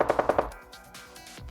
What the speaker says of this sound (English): you'll hear some automatic gunfire